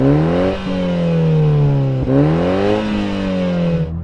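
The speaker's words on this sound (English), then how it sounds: "I'm going to rev this thing up." A Toyota Supra four-cylinder engine revs hard twice in a row, each rev rising and holding before dropping back, loud and close with no talk over it.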